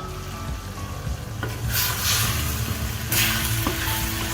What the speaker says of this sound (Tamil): இது அப்படியே 3 நிமிஷம் கொதிக்கட்டும்.